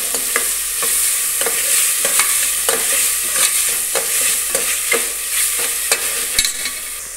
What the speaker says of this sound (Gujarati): બીજો તેને આપણે સારી રીતે મિક્સ કરી લઈશું.